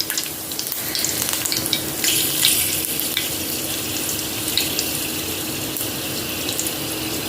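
Curry leaves dropped into hot oil for a fish meal give a loud, dense, continuous crackling sizzle that stays close and steady with no voices.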